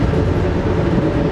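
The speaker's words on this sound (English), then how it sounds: "Here we got a coal train" A coal train rolls past alongside a moving Amtrak passenger train on the Cardinal route near the Gauley River, a loud, dense continuous rumble and rattling rail roar heard close with no talk.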